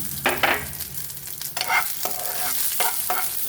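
Garlic cloves and onion frying in a pan for dondakaya pachadi, a steady oily sizzle broken by several scraping stirs of a spatula, close and fairly loud with no talk.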